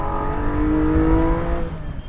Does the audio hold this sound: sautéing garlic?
no